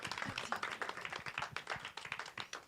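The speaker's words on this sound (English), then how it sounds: "give them a round of applause" Audience applause at a live Q&A after a screening, a steady patter of many hands clapping at moderate volume throughout, fairly close and without a clear rise or fade.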